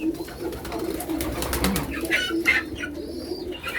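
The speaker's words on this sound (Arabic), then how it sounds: "ده الحمام" Pigeons coo in a bird coop, soft low repeated cooing close by, with rustling and faint chirps around them.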